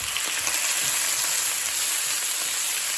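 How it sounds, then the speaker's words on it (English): Cabbage greens, coarsely chopped, sizzle and fry steadily in a pan for yakisoba, a continuous hissing crackle that stays even and fairly close throughout with no talking. "Stir it around to coat it real nice."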